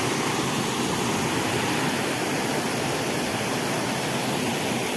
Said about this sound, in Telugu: ఇక్కడ ఈ కొండ కోణల్లో వాటర్ అనేది వెళ్తూ ఉంటే ఈ యొక్క అరకుకే అందాన్ని తీసుకొచ్చింది ఈ వాటర్ ఫాల్స్